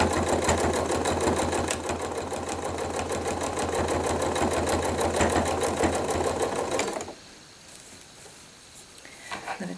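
A sewing machine runs steadily stitching couching cord onto a bag, a loud close rapid mechanical whirr for about seven seconds, then stops, leaving quiet handling noises.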